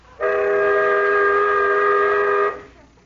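A loud, steady whistle blast sounds for over two seconds, a piercing sustained multi-toned note that starts and stops abruptly, with no talk.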